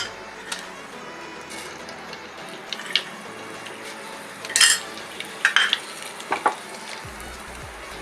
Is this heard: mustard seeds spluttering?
yes